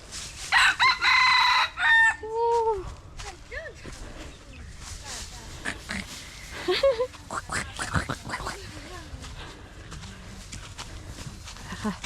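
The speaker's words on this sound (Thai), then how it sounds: "มีไก่ด้วย" Chickens heard outdoors on Samed island, Thailand: a rooster crows loudly twice near the start, then hens cluck in scattered bursts, with faint voices speaking in the background.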